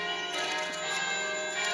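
Church bells ring on a Sunday, a sustained wash of overlapping metallic tones with no clear strikes standing out, heard steadily throughout with no talking.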